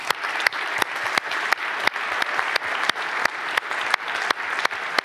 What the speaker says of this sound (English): Give them all a warm applause